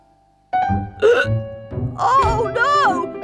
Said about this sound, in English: Now I've got hiccups too.